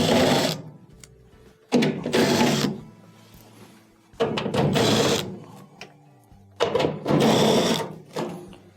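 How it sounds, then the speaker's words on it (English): Screws being backed out of the bottom of a dryer lint chute with a power driver, three loud whirring bursts separated by quiet pauses and small clicks, close up. "we have to remove a couple of screws on the bottom of the chute here"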